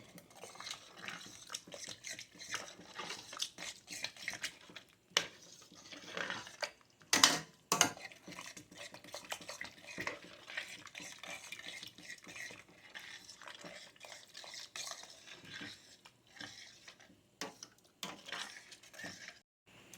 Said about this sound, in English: And you're going to stir that really good to try to prevent as many lumps as possible.